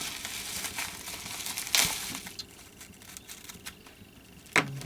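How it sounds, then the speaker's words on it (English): Bubble wrap crinkles and rustles as it is pulled off a model train box holding a Trix DB class 112 electric locomotive, with a sharp crackle burst near the start and another near the end over steady soft handling noise. "Undo the bubble wrap."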